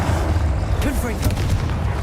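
Booming spell blast from the Confringo fire curse in Hogwarts Legacy, a heavy low rumble with brief crackling bursts layered over steady game noise.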